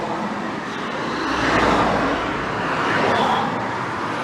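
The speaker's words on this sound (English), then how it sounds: "excuse the traffic noise, can't be helped" Steady road traffic rumbles beside a roadside church in Axbridge, Somerset, with cars passing close and louder swells near the middle and end, no voices.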